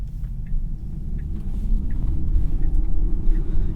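Inside a 2021 Tesla Model Y cabin on the road, a steady low rumble of tire and road noise fills the space, with no talking, growing slightly louder toward the end.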